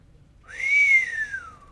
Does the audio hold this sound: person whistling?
yes